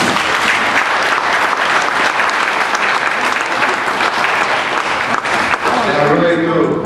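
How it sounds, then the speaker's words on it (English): Audience at a roundtable on property tax reform applauding the senators, loud, sustained clapping filling the room throughout, with a voice faintly emerging at the end. "I think they deserve a round of applause for being in the public."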